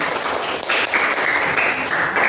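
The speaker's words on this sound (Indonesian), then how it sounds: "Tepuk tangan" Steady applause from a group, dense and continuous throughout with no voices on top.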